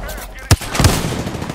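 Shotgun fire in Apex Legends: two sharp, close blasts in quick succession, the first especially punchy, with a lingering rumble afterward.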